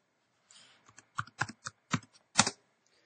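Close, crisp keystrokes on a computer keyboard come in an uneven run of about eight taps, separated by brief gaps, with nothing else heard.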